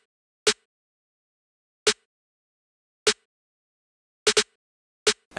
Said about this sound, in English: this is just a standard kind of drill kind of snare pattern